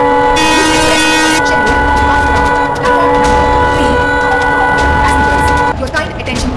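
Indian Train Simulator video game train, a loud sustained horn blast over a rumbling locomotive, followed by steady engine hum with repeated tonal layers and brief rattling, while a station announcement voice plays.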